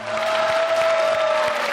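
Studio audience applause on a Bulgarian TV quiz show, a dense burst of clapping close and loud throughout, with a faint tonal hum beneath.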